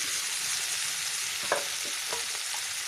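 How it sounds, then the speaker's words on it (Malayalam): Elephant yam upperi stir-frying in oil makes a continuous bright sizzle with a few soft scraping stirs near the pan, and nobody speaks. "ഉപ്പേരി വറുത്തിടുന്നത്"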